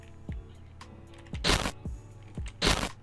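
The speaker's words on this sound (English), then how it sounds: "if you're gonna do this effect, I recommend doing a glitch sound effect." Short digital glitch effect: choppy low thumps and two sharp bursts of harsh static noise, close and fairly loud, with brief stutters between them.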